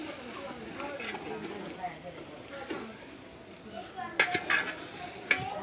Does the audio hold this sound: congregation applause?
no